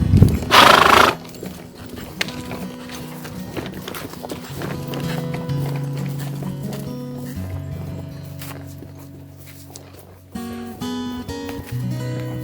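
On a trail ride through cattle country, a quiet horse gives a loud snort or whinny at the start, then its hooves clip-clop in a steady walking rhythm under faint background noise.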